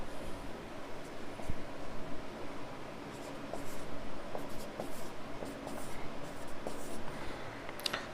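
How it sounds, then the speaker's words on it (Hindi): Pen writing out reasoning word-series questions, heard as steady, faint, continuous scratching strokes close by, with no talking. "तो देखो लॉजिकल वर्ड सीरीज के क्वेश्चन लिख रहा हूं मैं"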